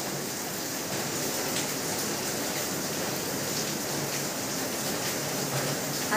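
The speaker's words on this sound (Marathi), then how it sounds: "बाहेर पाऊस चालू आहे." Steady rain falling outside during a heavy, days-long monsoon downpour, heard as a continuous even hiss from indoors by a window, with no talking.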